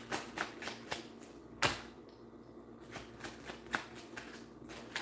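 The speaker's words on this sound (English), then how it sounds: "second shuffle." A deck of tarot-style reading cards is shuffled by hand, with a run of quick, soft riffling flicks and taps at close range, fairly quiet and steady, with no voice over it.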